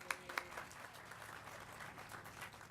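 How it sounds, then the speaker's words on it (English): Faint, scattered applause from a crowd at an outdoor groundbreaking ceremony, a couple of sharper claps standing out early before the clapping thins into a soft, distant patter. "Everyone give Queenie a round of applause."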